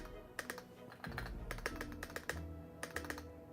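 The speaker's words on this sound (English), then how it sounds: "Like typing all the way through on this. Oh, I really like the way those switches feel." Typing on a Corsair MAKR 75 mechanical keyboard produces crisp, close key clacks in irregular bursts, some strokes louder than others, with no voices.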